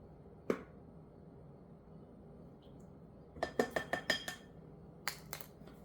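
A measuring spoon clinks against glass and metal dishes while tablespoons of oil go into homemade pizza dough: one sharp clink, then a quick cluster of five or six light taps and a couple more near the end, with no talking.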